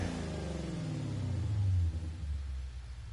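A Ford Mustang Gr4 race car in Gran Turismo 7 roars and revs loudly, its low engine note climbing in pitch and then easing off, with a steady rumble throughout.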